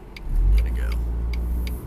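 A worn car engine, about to fail, runs with a low, steady, tank-like rumble close by, with faint clicks and rattles over it.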